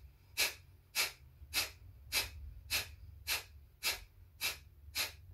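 Breathing meditation practice: eight sharp, evenly spaced breaths, each a short, close airy rush about two-thirds of a second apart over a low steady hum.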